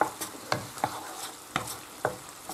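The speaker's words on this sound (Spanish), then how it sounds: "le echamos las alcachofas, que se mezcle bien." Artichokes stirred into a simmering marinera sauce in a pan: a handful of close, crisp scraping strokes at an uneven pace over a soft, steady sizzle.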